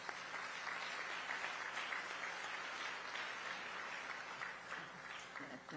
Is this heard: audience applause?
yes